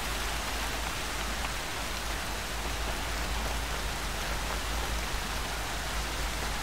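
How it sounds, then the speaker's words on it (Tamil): Heavy rain pours steadily in the video game Horizon Zero Dawn, a dense, even hiss of falling water with a low background rumble, continuous and fairly loud with no talk. "மழை பயங்கரமாக போயிச்சு."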